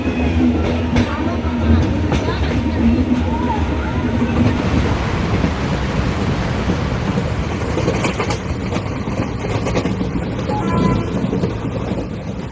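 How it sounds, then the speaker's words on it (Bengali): A passenger train on the Visakhapatnam to Araku line runs through hills and tunnels, a loud, continuous rumble and rattle of wheels on rails that grows into a brighter roar near the end. "পাহাড়, ঝর্ণা, নদী সব কিছু পেরিয়ে টানেলের ভেতর দিয়ে ট্রেন ছুটে চলেছে ঊর্ধ্বগতিতে।"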